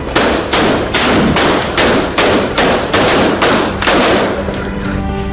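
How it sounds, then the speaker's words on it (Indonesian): Fireworks go off during a New Year's Eve street celebration in Cali, Colombia, as a loud, rapid series of regular blasts about every half second, with a faint tone emerging near the end. "warga Cali di Kolombia meluncurkan kembang api dan membakar boneka-boneka diiringi musik dan sorak-sorai di jalanan"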